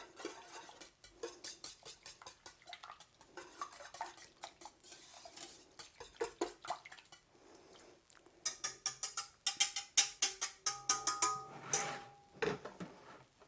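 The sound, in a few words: stirring cinnamon and nutmeg mixture in a bowl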